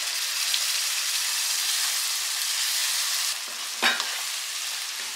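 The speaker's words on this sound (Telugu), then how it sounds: "ఇప్పుడు మనం ముందుగా పట్టి పెట్టుకున్న ఈ పేస్ట్ని ఇందులో యాడ్ చేసుకుందాం." Raw masala paste with tomatoes and onions sizzles in oil for an Andhra fish curry, a loud continuous hiss close up that dips briefly near the end as a spoon knocks and stirs through it.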